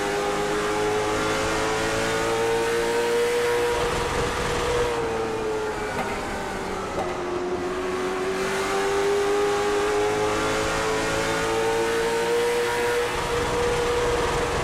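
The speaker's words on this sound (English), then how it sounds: "You hear these cars, man. They love to bounce off that rev limiter." Late model stock race cars at Myrtle Beach revving hard and bouncing off the rev limiter, a continuous loud engine howl rising and dipping in pitch as the pack circles, with no voices.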